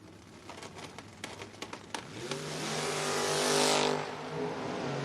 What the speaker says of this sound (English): Find him in the 89 S10. Bobby Matera on the other side in the 70 Buick Opel